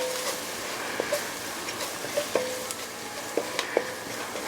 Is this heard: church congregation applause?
no